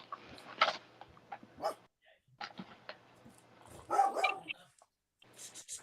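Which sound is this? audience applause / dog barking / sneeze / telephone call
dog barking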